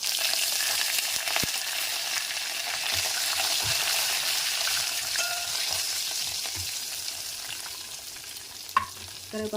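Garlic and curry leaves fry in oil for a moong dal and tomato dish, producing a steady, moderately quiet sizzle with occasional stirring clicks and a few utensil taps toward the end.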